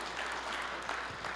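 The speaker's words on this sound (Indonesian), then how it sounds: "Berikan tepuk tangan yang meriah." A church congregation applauds during a sermon, a dense, steady wash of clapping from many hands filling the space without pause.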